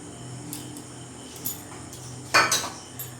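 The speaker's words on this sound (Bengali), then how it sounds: "আমি কড়াই বসিয়ে দিয়েছি, কড়াইতে তেল দিয়ে দেবো এখন" A kadai being set on a stove before mustard oil goes in, with several metallic clinks and one louder clattering knock of pots and utensils against a faint steady background hum.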